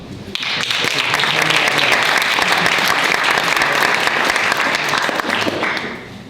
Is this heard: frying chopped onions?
no